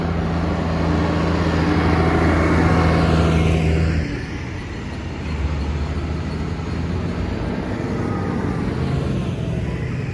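John Deere tractor with Christmas jumpers displayed in the cab driving past at close range during a festive tractor run near Filey, a loud steady engine rumble that shifts in pitch as it passes.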